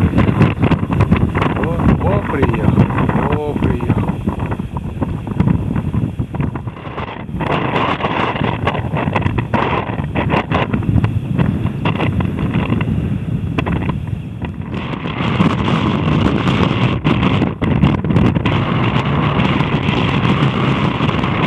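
Strong side wind buffets the microphone outdoors in open fields, a loud, continuous rumbling roar that surges and drops, with someone talking over it at times.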